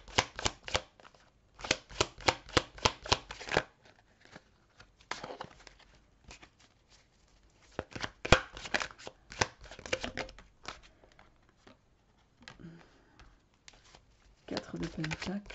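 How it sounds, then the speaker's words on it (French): Tarot cards riffled and shuffled in quick bursts of rapid flicking, then single cards slid out and laid down with soft taps, close by, broken by pauses and light handling rustle. "Alors, je vais tirer toutes les cartes."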